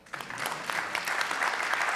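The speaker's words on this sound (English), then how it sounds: "we can clap for Basquiat" An audience at a lecture on arts and public policy bursts into applause, the clapping swelling from a quiet start into a full, steady ovation.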